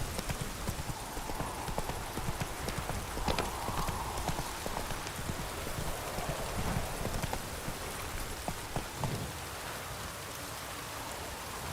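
Horse hooves clip-clop steadily in The Witcher 3, a continuous trotting rhythm mixed with rain falling on surfaces and an occasional soft whinny.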